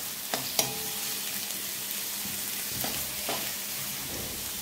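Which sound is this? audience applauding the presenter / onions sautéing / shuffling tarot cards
onions sautéing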